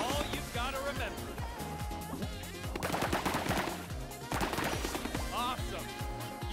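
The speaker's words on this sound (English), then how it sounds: "Now, blast that foam. No holding back." Foam blaster firing in the FOAMSTARS game on PS5, a rapid run of sharp bursting shots under a busy game soundtrack, with a voice talking over the action.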